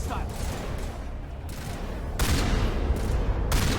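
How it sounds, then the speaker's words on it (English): Shotgun blasts in the video game Mass Effect 1 fired at long range, heard as dense bursts of loud broadband gunfire with one sustained volley swelling near the end. "Long range shotgun."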